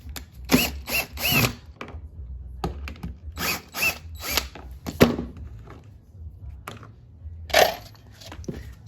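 Power tool spinning out T30 Torx side-panel bolts on a Club Car Precedent golf cart, in a run of short whirring bursts and ratcheting clicks, some close together and some spaced apart, close up with no talk.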